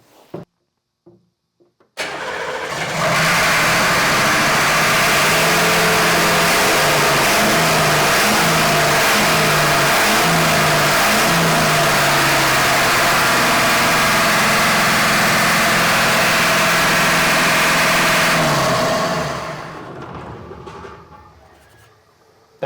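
A Humvee engine after throttle work starts and revs hard, a loud, close, sustained roar that rises and falls in repeated surges for about sixteen seconds before cutting off abruptly.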